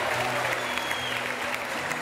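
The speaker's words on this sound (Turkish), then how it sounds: "Alkışlar, buyurun efendim." A studio audience applauds with dense, even clapping that stays loud and continuous across a short stretch, filling the room at a steady level.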